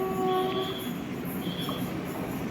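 The Aronai Express, a long-distance passenger train from Thiruvananthapuram Central to Silchar via Kottayam, rolls through Mayyanad village railway station with a steady, rumbling clatter of wheels on rails and brief squealing tones over the continuous roar.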